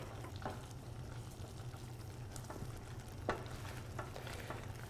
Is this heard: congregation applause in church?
no